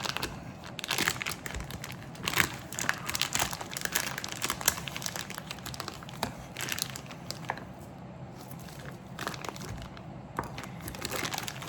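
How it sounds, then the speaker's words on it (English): A plastic packet holding lamb ribs is torn and pulled open, a busy run of close crinkling, crackling and rustling with sharp irregular snaps throughout. "So first thing we need to do is remove from the packet."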